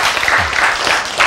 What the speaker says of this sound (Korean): 여러분들 이때는 박수를 아주 세게 쳐야 됩니다